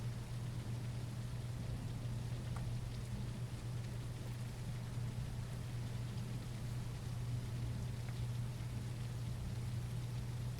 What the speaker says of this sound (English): This rain could put me to sleep.